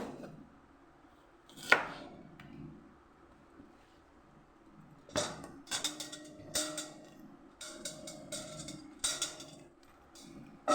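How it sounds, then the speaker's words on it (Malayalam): An onion is cut with a knife, heard as a single sharp chop early on, then after a quiet stretch a run of crisp, close chopping strikes in uneven bursts over faint room hiss. "ഉള്ളി ഇങ്ങനെ കട്ട് ചെയ്ത്"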